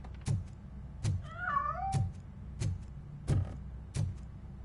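A cat in the video game Robocop: Rogue City gives one clear, wavering meow, set among heavy, evenly spaced thudding footsteps that dominate the scene.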